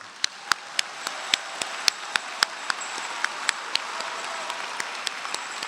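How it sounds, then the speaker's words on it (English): Applause from a graduation ceremony audience for the graduates: a steady wash of many hands clapping, fairly distant and moderate, with scattered sharper claps standing out, no one speaking over it. "Let's have a round of applause for these graduates"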